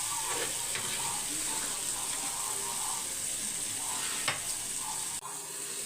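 Fish or prawns dry-fry in a pan with no oil over a low flame, giving a continuous hissing sizzle with occasional stirring clicks and a sharp knock near the end.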